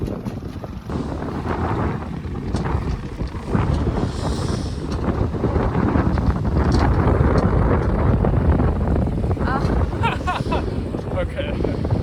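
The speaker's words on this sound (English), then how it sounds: "I'll have to get my little wind gauge to kind of see how fast the wind is blowing right now" Strong wind roars and buffets against the microphone aboard a 24-foot sailboat motoring in toward Blake Island in winter, a loud continuous rush with gusts and a low engine drone beneath, while a person talks intermittently.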